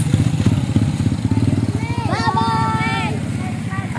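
A small motorcycle runs nearby with its engine puttering steadily while children ride on it near the sea, and children's voices squeal and chatter over the motor.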